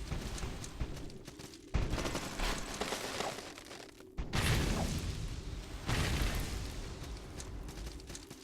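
Bombs thrown at skeletons in the castle game Salt & Sanctuary, loud explosive bursts at several moments over a steady rumbling game background.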